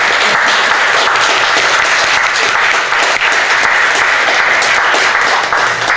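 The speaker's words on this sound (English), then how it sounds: "let's give all of us a big applause for what we've done" A room full of people at a poetry plaque dedication claps loudly and continuously, a dense, even wash of applause lasting several seconds with no break.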